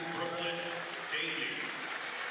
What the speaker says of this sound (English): getting a good round of applause from the Bulldog faithful